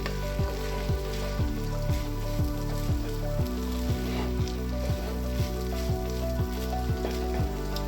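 Rice fries in a pan with oil for dhaba-style veg pulao, giving a steady sizzle and hiss. A spoon scrapes and stirs in regular strokes about twice a second, close and clear, with no talking.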